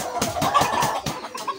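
Polish cap breed chickens, one male among five hens, giving a short run of quick, close clucks in a rhythmic series.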